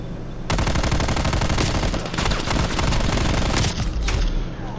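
Call of Duty: Black Ops Cold War gunfire erupts after a brief quiet start, sustained loud automatic bursts rattling almost continuously with short breaks, no voices over it.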